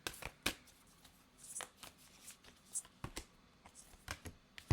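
Tarot cards being shuffled during a reading, heard as quiet, irregular riffling and snapping bursts close by, with short pauses between handfuls and no talking.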